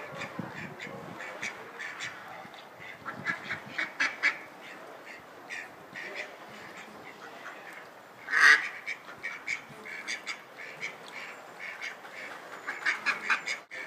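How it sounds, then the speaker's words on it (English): Two mallard ducks fight at a lake, giving repeated close raspy quacks in irregular bursts, with one loud, sharp squawk in the middle. "You got two mallards."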